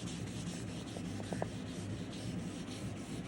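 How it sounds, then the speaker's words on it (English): A cloth rubs wood stain onto shellac-coated wood, a soft, steady close scrubbing swish with light, faint rhythmic strokes and no talking. "Let's rub some stain in."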